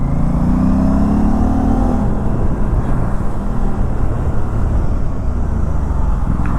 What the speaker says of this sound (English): I'm wantedly riding it fast so that the battery gets little charged.